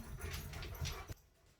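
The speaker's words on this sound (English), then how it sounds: "Dogs were going crazy." Dogs barking and whimpering at home, a burst of muffled, close barks and whines for about a second before cutting off abruptly into near silence.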